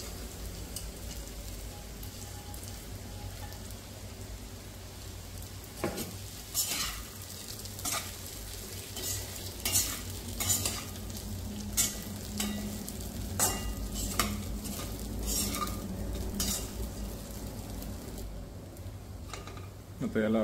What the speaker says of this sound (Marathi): आता हे चांगलं फ्राय झालेलं आहे. त्याच्यामध्ये आपण हे सर्व टाकून देऊ.